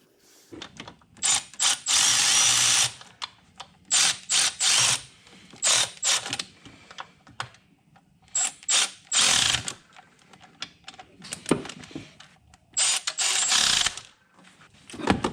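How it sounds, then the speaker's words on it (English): Power tool driving bolts into the intake manifold of a Toyota Hilux, in repeated loud bursts of whirring and ratcheting separated by short pauses, with no talking. "place the bolts back onto this manifold and snug it down."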